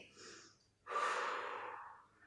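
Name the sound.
breathing in and out during an abdominal exercise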